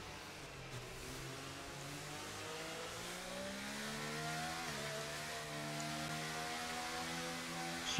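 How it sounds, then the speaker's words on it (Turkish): Race cars in F1 23 accelerating on the Las Vegas GP street circuit after the safety car pits, engines rising through gears with rising, shifting pitch, several cars close together, loud and continuous. "Güvenlik aracı içeri girdikten sonra ve şimdi araçlar hızlanmaya başladı"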